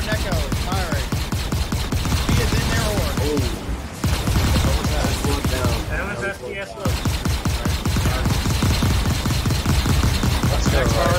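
Rapid spaceship gunfire crackles in dense, sustained bursts during a Star Citizen space battle, loud and close, pausing briefly twice before resuming, with voices talking over the barrage.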